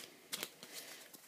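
A deck of tarot cards being shuffled up close, a quiet riffle of quick soft flutters and taps.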